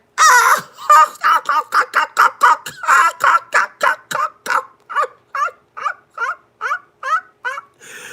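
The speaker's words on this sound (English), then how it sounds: "She dropped a laughing chicken and the chicken is laughing and the feathers are falling off." An animated green laughing chicken cackles in a long run of rapid, squawky bursts that start dense and loud and then space out into evenly paced clucks, close and clear.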